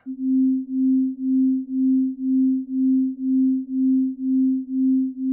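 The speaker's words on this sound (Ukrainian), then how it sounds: "в одне вухо потрапить звук з частотою 261 Гц, а в інше з частотою 263 Гц" A low, pure hum of two sine tones at 261 Hz and 263 Hz, one in each ear, swelling and fading in a slow, even pulse about twice per second.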